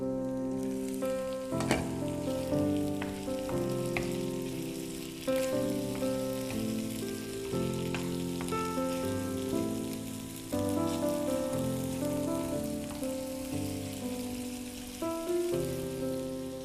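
Goat liver (kaleji) frying on a tawa gives a steady sizzle under recurring sustained tonal music, the crackle continuous throughout with no talking.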